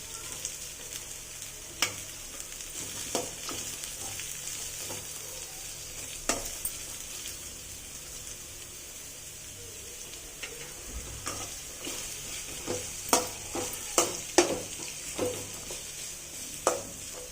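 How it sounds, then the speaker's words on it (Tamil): Onion, carrot and beans sautéing for pasta, a continuous sizzle with scattered clinks and scrapes of a spoon against the pan, growing busier toward the end. "கேரட், பீன்ஸும் போட்டுருக்கோம். போட்டு நல்லா வதக்கணும்."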